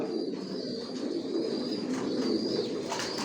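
Racing pigeons in a loft give soft, low, rolling coos one after another, close and fairly quiet, with faint chirps and rustling in the background.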